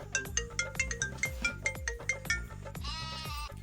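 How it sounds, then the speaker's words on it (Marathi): An incoming call sets off a mobile phone's musical ringtone, playing a repeating, bouncy, beat-driven melody clearly with no one talking over it. "आम्हा फोन आलाय कोणाच तरी"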